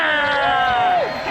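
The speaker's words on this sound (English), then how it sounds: "Go on, cheer for them." Cheers and whoops rise from a crowd urging on teams in a capture the flag game, a brief burst of voices with a rising and falling shout.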